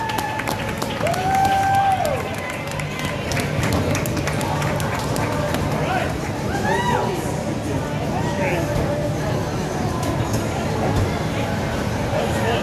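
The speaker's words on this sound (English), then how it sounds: "Through the handshake line, everybody's clapping." Scattered applause from spectators at a PeeWee youth hockey championship as players pass through the post-game handshake line, steady and moderate in a reverberant rink, with crowd chatter, skate sounds and a few whistles or shouts.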